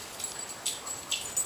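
A young puppy whimpers in faint, high, thin whines, a few short cries spaced across a moment with nothing else around them.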